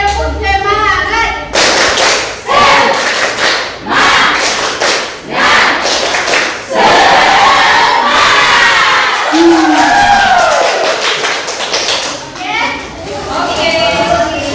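Schoolchildren in a classroom do the tepuk semangat spirit clap, loud rhythmic clapping mixed with energetic group shouting and chanting, up close and continuous through most of the stretch.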